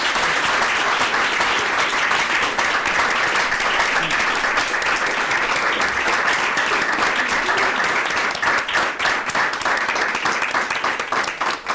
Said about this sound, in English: Should we have a big round of applause?